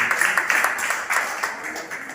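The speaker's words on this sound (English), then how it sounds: "A round of applause." Applause at a Rotary Club fellowship gathering, a moderate crowd clapping in a fairly steady burst with a few louder accents, heard close and without talk over it.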